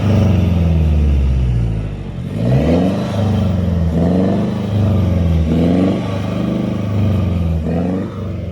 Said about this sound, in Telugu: ఇది డీజిల్ బట్ అయినా కూడా ఎగ్జాస్ట్ అయితే సౌండ్ వస్తుంది